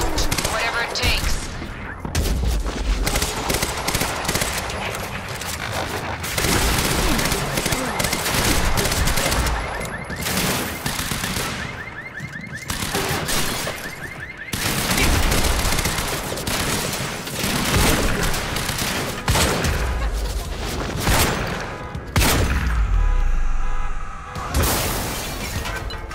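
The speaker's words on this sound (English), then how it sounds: "I'm getting reports of gunfire in the underground parking." Rapid bursts of automatic gunfire and scattered single shots ring out in the video game Quantum Break, loud and dense with brief pauses, mixed with impacts and shattering, while voices speak at times.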